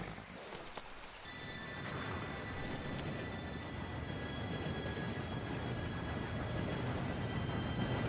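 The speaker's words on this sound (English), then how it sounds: "Train should be here any minute now." A train arrives in Red Dead Redemption 2, its steady rumble swelling in after about a second and holding loud, with horse hooves clopping and a whinny mixed in.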